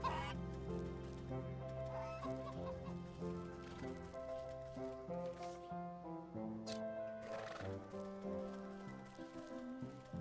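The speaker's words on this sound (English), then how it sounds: "Goose, perhaps the nastiest of birds." Goose in the Wytchwood video game, repeated honking and clucking calls in a tonal rhythmic pattern, moderately close and steady throughout with no talk.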